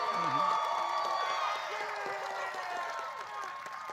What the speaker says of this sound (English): Let's give Juliana a round of applause.